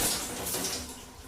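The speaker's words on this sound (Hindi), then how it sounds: "तभी अचानक पाइप से आता हुआ पानी बंद हुआ।" Water gushes steadily from a pipe with a soft, hissing splash, quiet and continuous with no voices.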